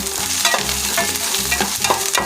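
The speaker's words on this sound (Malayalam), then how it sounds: "ഇതിലേക്ക് വെള്ളുള്ളി ചതച്ചതും പച്ചമുളക് ചെറുതായിട്ട് മുറിച്ചതും" Crushed garlic and chopped green chilli stir-fried in oil with coconut pieces and dried red chilli for a Kerala-style chicken dish, a steady close sizzle with repeated scraping stirs of a spoon against the pan.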